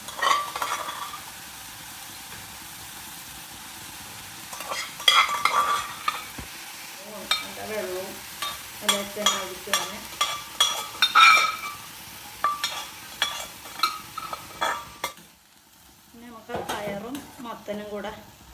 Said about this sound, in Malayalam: നന്നായിട്ട് ഇളക്കി യോജിപ്പിച്ചു കൊടുക്കുക